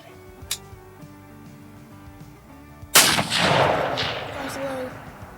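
A single sharp hunting rifle shot cracks loudly outdoors, with a rolling echo fading over the next couple of seconds after quiet ambient hiss.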